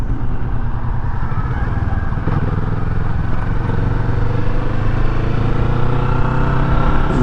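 Motorcycle engine droning steadily and loudly at close range while riding along a road through an area that was once a golf course, with wind rush over the whole stretch and no talk.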